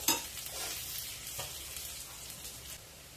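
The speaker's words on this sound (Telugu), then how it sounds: "ఆయిల్లో బాగా డీప్ ఫ్రై చేసుకున్న చామదుంప ముక్కలు దీంట్లో వేసేసుకుందాం" Deep-fried taro pieces tipped into a pan of onions and chillies, giving a quick thud followed by a steady, faint crackling sizzle with some stirring, close and without voices.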